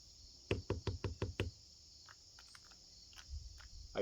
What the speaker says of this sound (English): I hear little feet.